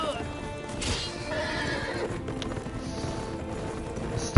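Horse in a Game of Thrones battle scene neighing sharply as it is stabbed, loud whinnies over hoofbeats and scuffling, with voices under the noise.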